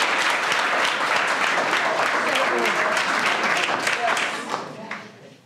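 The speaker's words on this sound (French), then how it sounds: "Applaudissez pour elle." An audience at a talk on female excision applauds a woman with loud, sustained clapping, voices mixed in, before the sound fades out at the end.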